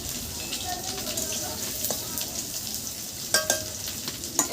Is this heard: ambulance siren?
no